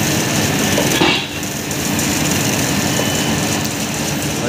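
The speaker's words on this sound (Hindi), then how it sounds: "ये हमारा ड्रिलिंग मशीन चल रहा है जो कि यहाँ पे होल मारेगा" Drilling machine with a 30-metre boom running at an opencast coal mine, a steady loud mechanical roar with a heavy low rumble, constant throughout with a brief dip partway.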